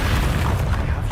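A Bombarda blasting spell detonates in Hogwarts Legacy, giving a short, dense booming burst that fills the moment with low rumble and crackling debris.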